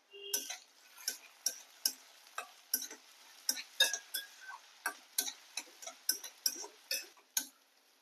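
Potatoes being stirred in a pan for sabudana khichdi, heard as a regular series of light metallic scrapes and clicks, about two per second, fairly faint and with no voices.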